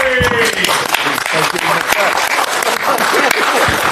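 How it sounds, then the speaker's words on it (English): Press conference audience at Wembley Stadium clapping for promoter Frank Warren, a dense, steady burst of applause close by, with voices talking over it throughout. "I think we deserve to give Frank Warren a clap"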